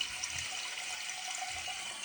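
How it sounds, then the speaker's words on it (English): A bidet nozzle in self-cleaning mode sprays water in a steady, hissing rush, close and continuous throughout with no talking. "you just go to nozzle cleaning, and then you turn on the water and it cleans itself"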